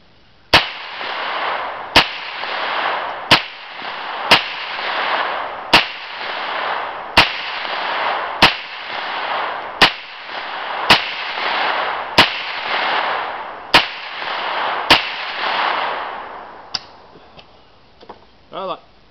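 Rapid fire from a PSA AR-9 rifle: about fourteen sharp, loud shots at a steady rhythm of roughly one every 1.2 seconds over constant background noise, ending in quieter rustling.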